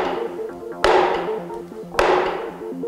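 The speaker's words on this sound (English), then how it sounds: "I think I'm going to carry on hammering now" Two sharp, ringing hammer blows about a second apart, close and loud, over a steady tonal background.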